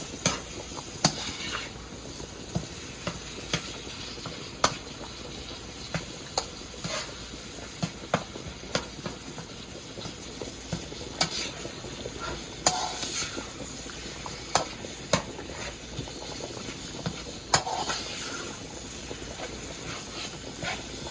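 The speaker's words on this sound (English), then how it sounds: "So I'm gonna just start stir the season and the herb together in the meat." Seasoning and herbs stirred into ground meat frying in a pan for stovetop shepherd's pie, with a steady low sizzle and repeated scrapes and clicks of the spoon against the pan, no voices.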